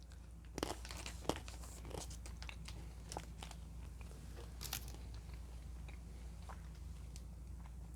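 Crisp, dry crunches of a bland Japanese rice cracker being bitten and chewed up close, several sharp snaps followed by quieter chewing, no talking.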